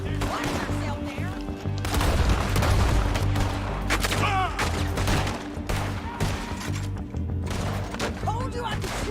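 Red Dead Redemption gunfight with dense, continuous volleys of gunshots and booming blasts throughout, loud and close, mixed with game music, shouted dialogue and tonal sound effects.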